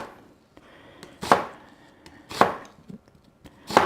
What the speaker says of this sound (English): So you cut the onion like that, and then you cut it